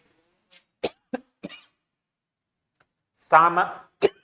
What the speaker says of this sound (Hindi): थोड़ा गला खराब है, खांसी आ रही है